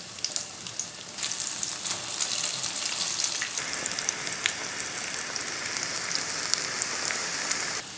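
Steady, crackling sizzle of Baltic herring fish patties frying in a hot pan, continuous and fairly loud throughout, with no voices.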